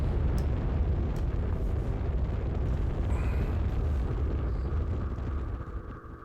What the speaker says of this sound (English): I'm building a bomb to blow up a mountain.